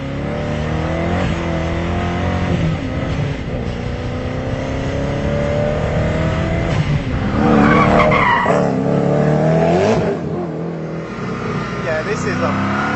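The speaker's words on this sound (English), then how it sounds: "there's so much noise and so much drama going on in this car" A Koenigsegg Agera R supercar roars loudly as its tyres skid and squeal, the engine note rising and falling continuously with a harsher surge of revs partway through.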